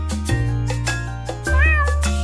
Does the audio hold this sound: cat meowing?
yes